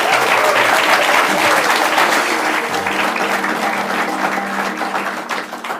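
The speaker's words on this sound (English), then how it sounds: "Let's give him a big round of applause." An audience at a live public-affairs event applauds for a senator and a state representative, a loud, sustained wash of clapping that fades slightly toward the end, with little talk.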